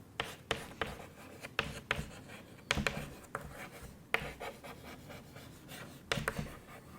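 Chalk or marker strokes on a classroom board during an English lesson, a steady run of short scraping taps and rubs, close and fairly loud, with no talking over them.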